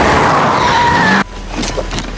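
A car speeds past on asphalt with a loud, close rush of tire noise and engine that cuts off abruptly partway through, leaving quieter scattered sounds after.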